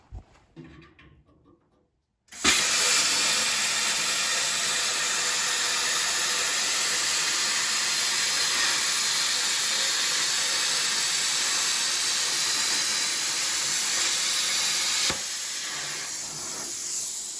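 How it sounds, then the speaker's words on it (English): Plasma cutter slicing through the body metal of a 1966 VW Beetle convertible, a loud, steady, close hiss that starts abruptly after a quiet moment and runs continuously before easing slightly near the end. "we might try the plasma cutter for that"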